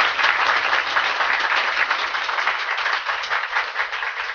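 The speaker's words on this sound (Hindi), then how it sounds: "फिर ताली बजाने लगते हैं" An audience at a Diwali gathering, full of children, breaks into steady sustained clapping, a dense close crackle that carries through the whole stretch.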